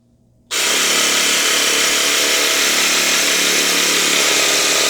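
A TIMTAM percussion massager switched on after a brief pause, giving a loud, harsh, steady mechanical hammering roar held close for about four seconds.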